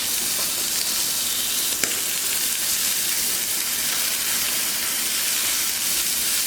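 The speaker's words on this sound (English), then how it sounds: "So while our meat is sizzling around" Ostrich fillet sears in a very hot frying pan, giving a loud, continuous sizzle and crackling hiss up close, with one brief sharp pop partway through and no talking.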